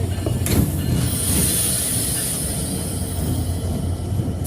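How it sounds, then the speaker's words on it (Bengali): Khulna-bound Chitra intercity train pulling into a railway station, a steady loud rumble of wheels on rails with a high squealing whine from the carriages, rolling on throughout. "ট্রেন অলরেডি চলে আসছে।"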